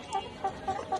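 Layer pullet hens on a poultry farm give about four short, close clucks in quick succession over a quiet background.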